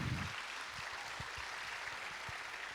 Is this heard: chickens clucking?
no